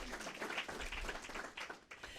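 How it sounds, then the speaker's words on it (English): An audience at a community launch event applauds with steady, dense clapping that is faint and distant, fading slightly toward the end. "Please, big round of applause."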